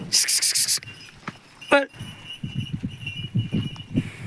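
A bullock's hooves thud on muddy ground after rain in a steady, rhythmic walk, after a few sharp clattering bursts and a brief call.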